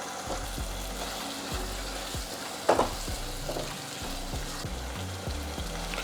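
Diced potato frying in hot oil in a pot for Indian vegetable masala pulao, a steady dense sizzle throughout with a few stirring scrapes, close and fairly loud.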